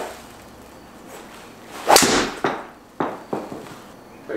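A new Wilson 3 wood strikes a golf ball outdoors with one sharp, loud metallic crack, followed by several quieter thwacks of other swings, close by and with no talking.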